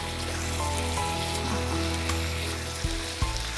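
Chicken masala sautéing in a Milky Mist magic oven gives a steady, close frying sizzle throughout, with a couple of brief stirring knocks near the end.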